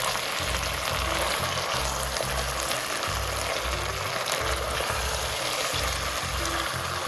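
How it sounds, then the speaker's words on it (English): Crab pieces fry in hot oil in a pot, giving off a steady, close sizzle that runs unbroken under a rhythmic, low-pitched musical beat. "We're going to pick the heat up a bit and get this crab fried."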